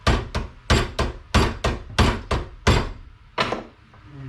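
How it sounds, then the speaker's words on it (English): A hammer strikes a bent bench grinder shaft on a vintage grinder, landing about ten loud, sharp, ringing whacks at a fairly steady pace with short pauses between them. "let's go ahead and give her a couple whacks here"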